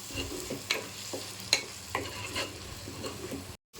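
Ground tomato sautés for a katla fish curry, with a soft frying sizzle broken by several crisp spatula scrapes and clinks, close and fairly quiet, ending in a brief silent gap.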